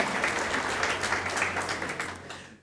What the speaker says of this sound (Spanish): Denle un aplauso al único bungeecista de la iglesia.